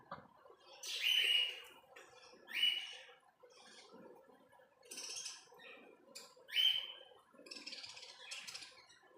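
Pet cockatiels and budgies chirp in repeated short, bright bursts about every couple of seconds, fairly close, over a soft bed of quieter twittering.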